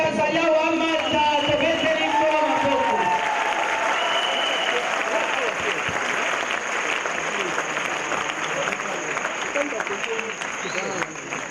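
An audience at a church ceremony marking an apostle's 35 years of ministry applauds loudly and steadily, with voices and cheering mixed in, especially at the start.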